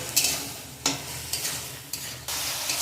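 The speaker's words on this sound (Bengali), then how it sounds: "লাউটা বেশ কিছুক্ষণ কষিয়ে নেব আর কিছুক্ষণ কষাবো" Bottle gourd sautéed in a pan for a Bengali lau curry, a soft sizzle broken by several sharp scraping strokes of a spatula against the pan, close and alone with no talking.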